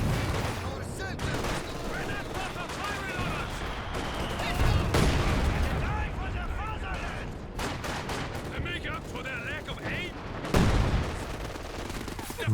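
Machine gun fire in Company of Heroes 2, with rapid bursts and scattered gunshots over a constant battlefield din and occasional heavier booms, while a voice talks over the action.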